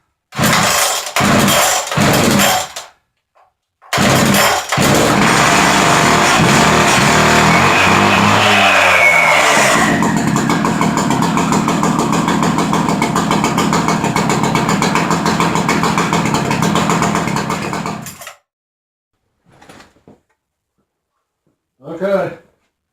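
A Makita DPC7321HD concrete saw's gas engine with decompression in fires up after a few short pulls, then runs loud and steady at high idle for about fifteen seconds before cutting off, with a few faint thumps afterward.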